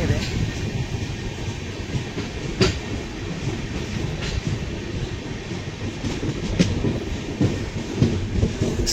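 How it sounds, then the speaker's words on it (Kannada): A passenger train slowing through the forested Braganza Ghat line near Dudhsagar Falls in the monsoon, heard from on board as a steady low rumble with a few sharp clanks and rail clicks throughout. "ಸ್ಲೋ ಆಯಿತು ಟ್ರೈನ್ ಇವಾಗ."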